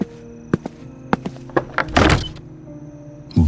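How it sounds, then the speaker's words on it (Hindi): A door opened at midnight after repeated doorbell ringing: a few close clicks and thunks of the latch and handle, then a short scraping swoosh as the door swings, followed by quiet. "दरवाजा खोलने गया।"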